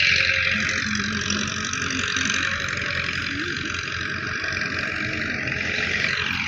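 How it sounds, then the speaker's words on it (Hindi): A tractor working a field with a cultivator attached gives a steady, moderately loud engine drone with a rough mechanical hum, continuous and unchanging throughout, with no talking. "एक ट्रैक्टर इस तरफ चल रहा है, एक साथ कल्टी लगा रहा है।"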